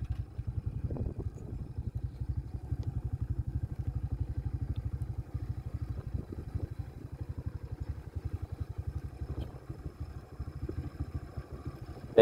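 A motorcycle engine runs steadily with a low, rapid chugging pulse as it descends a steep mountain road near the Tarubatang Selo village, with occasional clatter and rattles and no talk.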